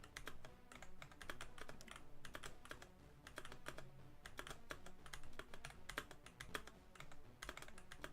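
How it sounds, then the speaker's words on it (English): Typing on a new computer keyboard during a Roblox obby game, a steady stream of close, crisp key clicks and clacks running throughout without any talking. "Hopefully the key pressing sound isn't too bad."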